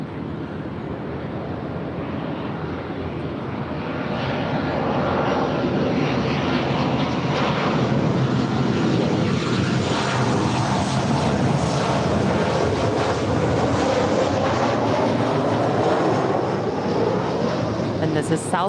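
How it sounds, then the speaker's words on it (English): A Southwest Boeing 737-700 arriving from Albuquerque roars loudly and steadily, swelling after a few seconds and holding a dense, sustained engine rumble throughout. "This is Southwest 9002 coming in from Albuquerque, New Mexico. It's a 737-700."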